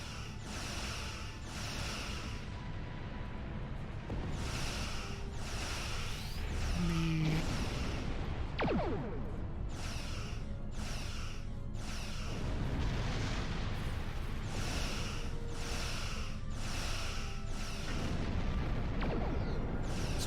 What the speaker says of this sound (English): All right, torpedo away.